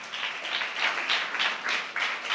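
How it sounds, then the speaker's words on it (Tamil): A church congregation claps to give thanks, a dense and steady rhythmic patter of many hands that rises and falls in waves, with no voices. "நல்ல கைத்தட்டி ஆண்டவருக்கு நன்றி சொல்லுங்க"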